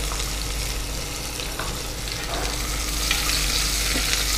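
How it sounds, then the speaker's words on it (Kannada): Two onions fry in oil for Punjabi tomato rice, giving a steady, close sizzle with the scrape and shuffle of stirring throughout; no talking. "ನೋಡಿ, ಈಗ ನೀರುಳ್ಳಿ ಚೆನ್ನಾಗಿ ಫ್ರೈ ಆಗಿದೆ"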